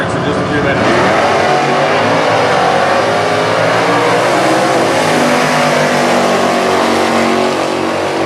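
Stock Eliminator drag racing car, a COPO driven by Robin Lawrence at the 2015 US Nationals, roars with a loud, sustained groaning, screaming exhaust tone, close and steady, with a voice talking over it.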